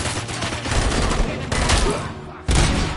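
Rapid volley of gunfire from the RoboCop: Rogue City video game, a sustained burst of loud shots rolling for about three seconds, with a brief dip before a final heavy blast.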